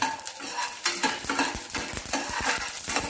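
Mustard seeds and a split chili frying in hot oil in a pan for a thor (banana stem) dish, with close crackling sizzle and repeated sharp clinks of a utensil stirring against the pan, no talk.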